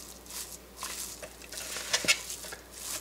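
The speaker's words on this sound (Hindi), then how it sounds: "अच्छी तरह मिक्स करें।" A spiced beef kabab mixture for shami kabab is stirred and mixed in a bowl, making soft wet patters and scrapes with a couple of sharper clinks, quiet and close, with no voices.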